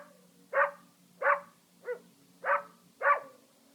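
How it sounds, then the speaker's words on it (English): Dog barking played back as an animal sound by a Google Assistant smart speaker: five clear, evenly spaced barks, the middle one softer, close and fairly quiet over a faint background hum. "Here's a dog."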